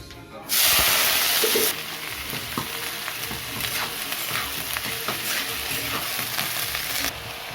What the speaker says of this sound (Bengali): তেলটা গরম হয়ে গেছে এবারে সব সবজিগুলো ঢেলে দিচ্ছি ভাজার জন্য